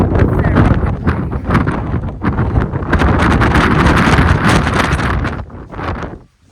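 Strong wind buffets the microphone in a constant roar, gusting steadily before easing off at the end.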